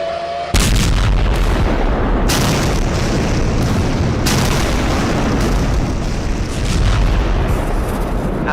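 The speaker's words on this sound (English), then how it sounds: "As an earth-shattering explosion boomed in the distance" A heavy, rumbling explosion boom erupts after a brief quiet moment, its roar sustained and filling the space for several seconds with no voices.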